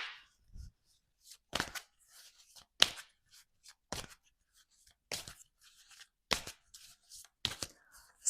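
Oracle cards being shuffled and handled, giving a series of sharp papery riffles and snaps in separate bursts with quiet gaps between them, close and clear with no talking.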